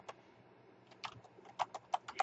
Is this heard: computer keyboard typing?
yes